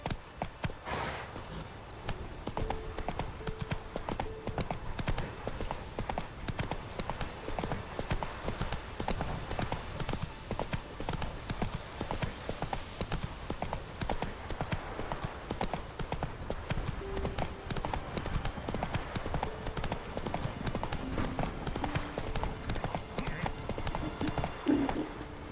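A horse gallops in the Witcher 3: Wild Hunt video game, its hooves pounding in a fast, unbroken clip-clop rhythm close by, with faint harness jingles and an occasional snort.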